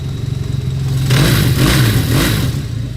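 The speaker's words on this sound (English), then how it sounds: "Listen to the motor on this thing, man." A 1976 Kawasaki KZ400 Deluxe motorcycle engine idles close by, then revs up sharply and holds a loud, steady roar for the rest of the short run, with no talking.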